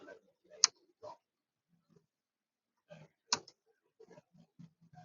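A computer mouse gives two crisp, isolated clicks a few seconds apart, sharp and close amid quiet background with faint small noises.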